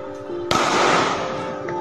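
A sharp bang rings out, followed by a dense, crackling burst that fades slowly, firecrackers and gunshots going off nearby amid background noise during a street clash in Makassar.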